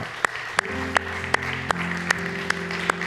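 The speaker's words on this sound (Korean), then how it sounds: "주님께 감사의 박수 올려드리겠습니다" A youth worship congregation claps in thanks during a Sunday service, sharp evenly spaced claps in a steady beat over sustained keyboard chords.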